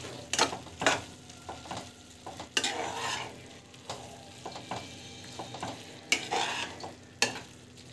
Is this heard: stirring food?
yes